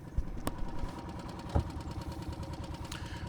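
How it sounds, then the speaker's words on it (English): An outboard engine on an inflatable catamaran beside a river beach turns over and settles into a steady, rumbling idle, close and continuous, with a couple of sharper knocks near the start. "let me start the engine."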